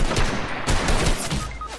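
A sniper fires in a Fortnite squad match: a dense, loud burst of gunfire with rapid overlapping shots and crackling impacts that fill the whole moment.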